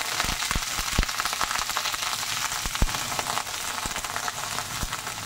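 Chopped water lily stems (shapla) frying in hot oil with dried chillies, giving a steady close sizzle broken by scattered sharp pops and crackles.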